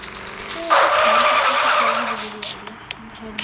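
A car in the video game Madout 2 brakes hard, and a loud tyre skid hisses for about a second and a half over a low engine hum. A voice speaks faintly beneath it.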